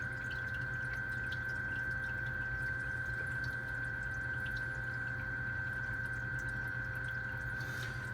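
A Waveline DC6000 aquarium return pump hums steadily at close range, a quiet continuous drone with a faint watery wash and no other sounds.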